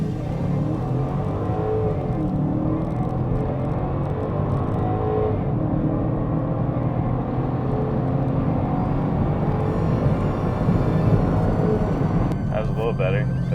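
A BMW E64 M6 accelerates hard in first gear, its engine note climbing in a continuous rising roar that stays loud and close for over ten seconds, with a voice briefly heard.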